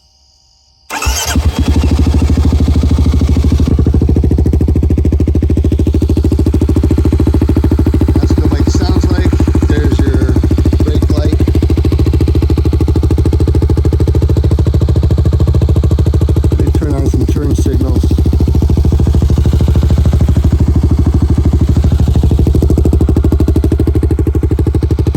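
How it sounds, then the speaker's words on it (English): A Kawasaki KLX300 dirt bike starts up and settles into a loud, steady exhaust drone, running close by for over twenty seconds with slight throttle changes partway through. "let me just start the bike. Let you hear the exhaust"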